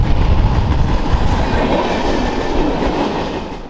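A freight train passes close by in the Columbia River Gorge, producing a loud, continuous rumble with rhythmic clickety-clack from the wheels on the rails.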